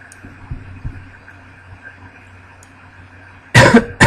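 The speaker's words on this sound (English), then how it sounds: "Sorry guys, I've had a little bit of a cough all day." A man gives a short, harsh cough burst near the end, loud and close, after several seconds of low hum and faint thumps.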